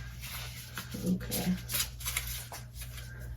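Oracle cards shuffled by hand close up, a brief flurry of papery riffling and card slaps under a steady background hum, with a short spoken word in the middle.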